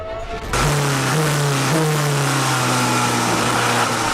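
A Peugeot RCZ-R engine starts abruptly and revs loudly and close, holding a steady rumbling pitch with a couple of brief rises, alone without speech.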